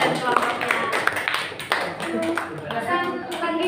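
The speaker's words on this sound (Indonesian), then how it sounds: "Tepuk tangan untuk Riza dan kelompoknya." A school class claps for a student and her group, a short burst of loose, uneven hand clapping mixed with children's chatter that lingers as the applause fades.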